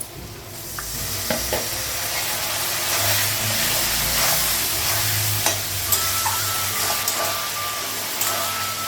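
Fish fries in a pan in a home kitchen, making a steady close sizzle with occasional stirring scrapes and clicks, with a faint beeping tone and low background hum.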